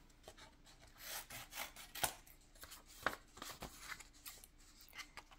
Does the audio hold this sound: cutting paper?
yes